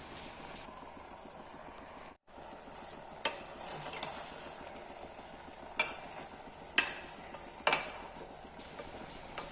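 Spices stirred into okra curry in a pan, soft quiet sizzling with a few sharp spoon-on-pan clinks and scrapes at irregular intervals, no voices.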